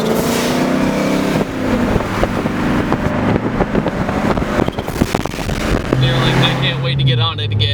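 A supercharged Ford Mustang with a 3.7 V6 drives on a wet road, its loud, steady engine and intake whoosh filling the whole stretch amid wind noise, with a rising tone near the end as it accelerates.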